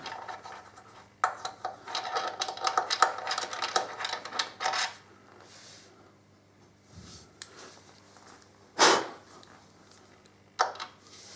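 A ratchet spins out a bolt on a Suzuki DL1000 V-Strom motorcycle during valve clearance work, with a dense burst of close clicking followed by a few isolated clicks and knocks, quiet and up close.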